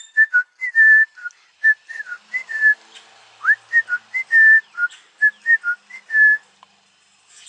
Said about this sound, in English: so they whistle like this